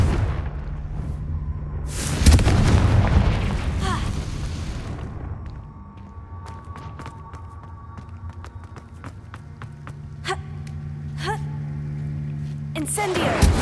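A Confringo explosive spell blast in the Hogwarts Legacy video game, a sudden loud burst about two seconds in that fades into lighter game effects and scattered clicks.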